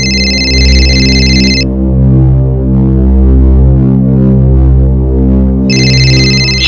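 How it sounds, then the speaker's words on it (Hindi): A telephone rings late at night in a quiet room, one bright electronic ring burst, then a pause under a low steady hum, then the ring starts again. "इतनी रात को किसका फोन है?"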